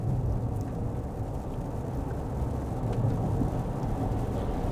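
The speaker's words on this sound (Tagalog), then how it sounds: "Oh, biglang humina yung ulan dito, no?" Steady rain heard from inside a moving vehicle in West Covina, California, a constant dense hiss over a low road rumble, with no voices.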